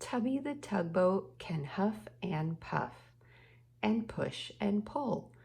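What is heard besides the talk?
No distinct noise like a dog, phone or traffic.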